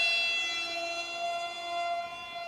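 An EMAX RS2306 2750 Kv brushless motor with a 6x4 KMP prop on 3S spins at high speed, giving off a steady, shrill electric whine with a few sustained tones that waver slightly.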